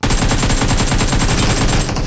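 Dense rapid automatic gunfire from a multiplayer shooter game, loud and continuous, with a voice faintly underneath.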